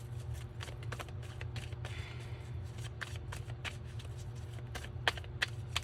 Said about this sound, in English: Shuffle. I'm just being told to shuffle